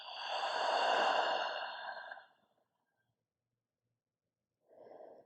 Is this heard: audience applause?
no